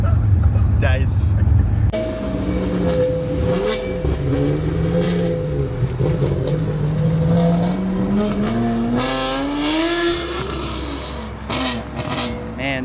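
High-revving V10 engine in a Lincoln Continental roaring and rising in pitch, loud and close, with crisp intake sound and the whine climbing through gears over steady road noise.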